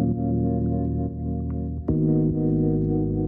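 Electronic bass chords with a sub layer, joined by an added mid-range synth layer, sustained tones changing pitch at a few chord changes, steady and fairly loud with no voices.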